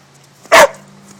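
A dog barks once, loud and close, a single sharp bark outdoors in the snow with a low hum under it.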